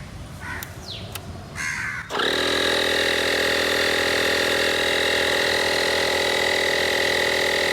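A portable tire inflator with auto-stop kicks on about two seconds in and runs as a steady, loud mechanical drone filling a car tire to around 33 psi, preceded by some outdoor noise with crow-like caws.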